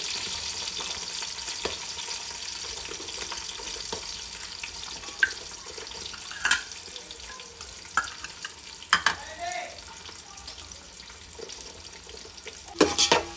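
Onions for omelette biryani sizzle steadily in a pan while a utensil stirs them, with scattered scraping clinks against the metal over a constant hiss, close and alone.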